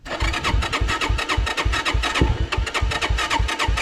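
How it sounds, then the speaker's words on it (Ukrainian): An Irbis Z1 motorcycle (Honda CBR600RR style) with carburettor trouble cranks and catches, then settles into a loud, close, rapidly pulsing idle with no talk. "Пробуємо завести, може він не заведеться. О, він завівся."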